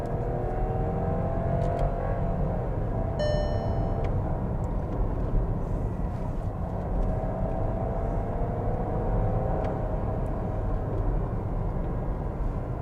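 A 2022 Skoda Slavia's engine pulls steadily under acceleration on a test drive, a continuous, even drone with road and wind noise, heard alone with no talking.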